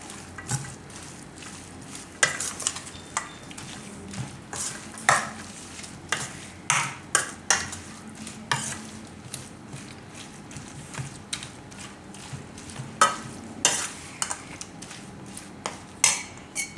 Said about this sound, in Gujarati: લાલ મરચું અને દહીં. આ બધું આપણે મિક્સ કરી દેવાનું.